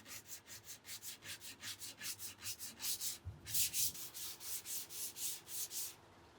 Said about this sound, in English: Final sanding.